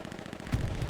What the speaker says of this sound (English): That MG sounds weird.